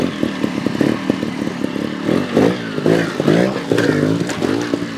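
A GasGas TXT 300 trials motorcycle crawls over a backyard obstacle, its engine popping and revving in short, uneven bursts close by as throttle blips rise and fall while climbing the face.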